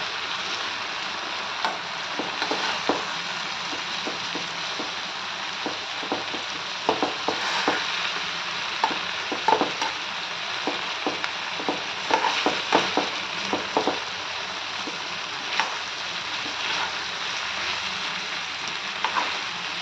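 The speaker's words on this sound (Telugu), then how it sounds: "ఇలా తిప్పేసుకోవాలండి. ఆ ఉల్లిపాయలు, ఈ వంకాయలు 2 మగ్గుతూ ఉంటాయి ఒకటేసారి." Onions and stuffed brinjals fry in a pan, a steady close sizzle running throughout with repeated light scraping and knocking as a spatula turns them.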